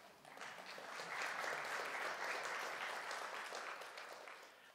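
Steady applause from a church congregation fills the room, faint and distant, swelling after the first second and holding evenly to the end with no voices on top.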